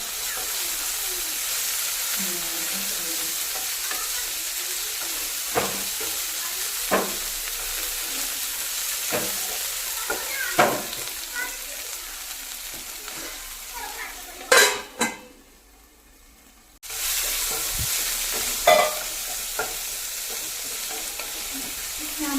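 Food roasting and stirred in a pan, with steady frying sizzle throughout and repeated scrapes and clinks of a utensil against the pan, a brief quiet gap near the end before the sizzling resumes.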